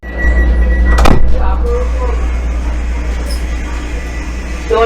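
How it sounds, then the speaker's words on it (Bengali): On a Howrah–Puri Vande Bharat Express halted at Bhubaneswar station, a train door shuts with one sharp, loud thud about a second in, over a constant low electrical hum and faint station background. "দরজা বন্ধ হয়ে গেল"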